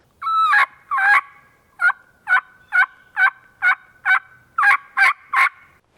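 Clean turkey yelps from a diaphragm mouth call, a series of about a dozen short, evenly spaced notes, close and loud with no raspy edge, a person imitating the bird.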